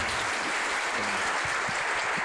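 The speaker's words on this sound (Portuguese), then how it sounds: "Então, uma salva de palmas a essa nossa mesa." Audience applauding a panel at a 2019 Átrio dos Gentios event, a steady wash of dense clapping from a crowd that holds evenly for about two seconds with no talk over it.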